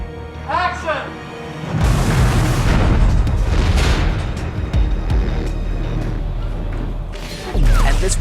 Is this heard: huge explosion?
yes